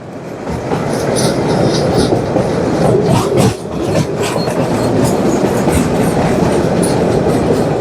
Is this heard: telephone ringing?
no